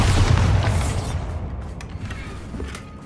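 A deep booming magical blast from the Bombarda spell in Hogwarts Legacy, a loud explosion at the start that rolls off into a decaying rumble with scattered debris crackles.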